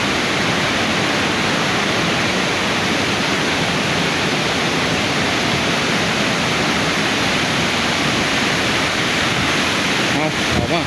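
Tad Khamuet waterfall in Thailand, a loud, steady broadband roar of rushing, crashing water filling the whole scene, with wind buffeting the microphone near the end.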